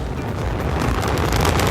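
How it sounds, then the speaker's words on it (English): A rocket explosion heard from a distance as a continuous, dense roaring rumble that holds steady and swells slightly throughout, with no clear separate blasts. "rocket explosion from last night"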